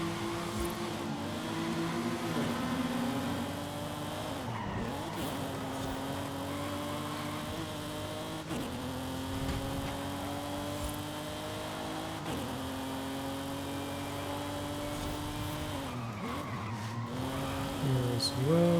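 Car braking hard and skidding into a tight city chicane in the Forza Horizon 5 racing game, the engine droning steadily throughout with pitch dips as it slows, loud and continuous.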